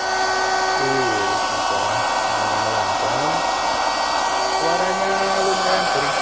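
An electric air pump inflating a car air mattress drones steadily and loudly close by, a continuous high whine with shifting lower tones, while a person talks over it now and then.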